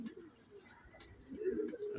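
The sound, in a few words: pigeons cooing near their lofts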